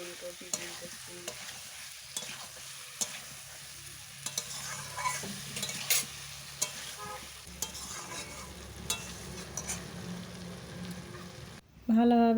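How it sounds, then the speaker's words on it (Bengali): Fried potato, cauliflower and egg are stirred into sizzling masala in a pan, giving a steady frying crackle with repeated scraping strokes, and a louder clatter right at the end. "দেওয়ার পর ভালোভাবে নাড়াচাড়া করে মশলার সাথে আমি কষে নেব।"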